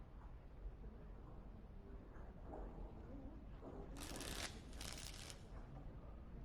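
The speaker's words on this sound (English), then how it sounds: "Before we start, the cards must be shuffled." Playing cards being shuffled in the Dragon Age Origins video game, two quick crisp riffle bursts close by over a very quiet, low ambient background.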